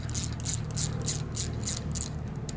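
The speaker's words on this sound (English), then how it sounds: "you can see we've got some corrosion on this AN bolt as well. Go ahead and remove the bolt" A corroded AN bolt is worked out of an aircraft cable fitting, giving a quiet, steady series of about ten rhythmic ratcheting clicks, evenly spaced and close up, with no voices.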